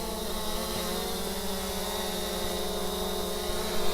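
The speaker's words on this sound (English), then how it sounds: "The drone is just a couple feet away." A camera drone holds a GPS hover a couple of feet away, its propellers making a steady, loud, tonal buzz with layered harmonics that swells slightly near the end.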